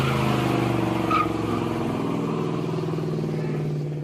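An old Ford car revs hard during a burnout, producing a loud, sustained, droning engine roar with a rough, clattering edge that fades slightly toward the end.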